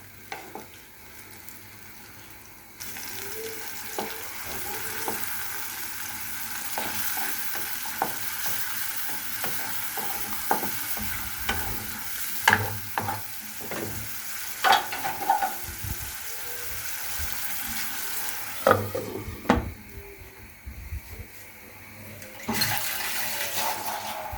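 Meat and liver cooking in a pan, with a soft, steady sizzle and repeated scraping stirs and clatters of a utensil, fairly quiet and close, without talk.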